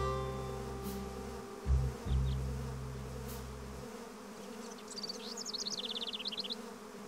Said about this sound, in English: Their buzzing was so sweet, and they were always so busy collecting honey.